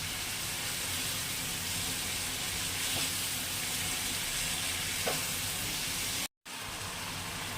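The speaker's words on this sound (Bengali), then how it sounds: "কিমাটা দিয়ে ভালো করে ভাজা ভাজা করতে হবে" Minced meat frying for chicken patties with a loud, continuous sizzle and occasional scraping of a spatula, broken by one brief dropout near the end.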